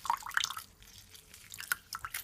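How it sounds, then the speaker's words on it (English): Lemon squeezed by hand into a glass of cold water gives faint, close squishing and a few small drips and trickles in quick, irregular bursts. "I'm gonna squeeze my lemon"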